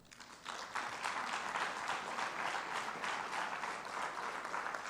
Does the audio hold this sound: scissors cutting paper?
no